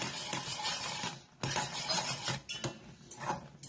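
Thickening danedar barfi mixture stirred steadily in a pan, busy metallic scraping and rasping of a spoon against the pan bottom with brief pauses, close and fairly loud, no voices.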